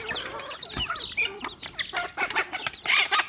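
A flock of chickens and a rooster in Tangail cluck and squawk busily while pecking at scattered feed, a lively jumble of close, overlapping calls with no talking.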